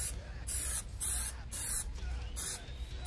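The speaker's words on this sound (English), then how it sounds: "so you can just go ahead and spray the whole area." Plasti Dip sprayed from an aerosol can over Toyota Tacoma emblems, coming as five or six sharp, loud hissing bursts about half a second long with short pauses between them.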